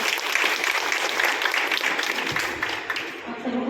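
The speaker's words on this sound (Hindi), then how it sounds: "अब हम बहन के लिए ताली बजाएंगे।" A church congregation applauds for a sister in a dense, lively round of clapping that holds steady and fades near the end, with voices mixed in underneath.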